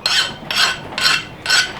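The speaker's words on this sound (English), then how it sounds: "I'll take a little metal file, clean up the burr that happens kind of on the bottom after sharpening it, and then just sharpen the top." A small metal file rasps across the underside of a freshly sharpened lawn mower blade to knock off the burr, four steady back-and-forth strokes close up in an even rhythm, with no talking.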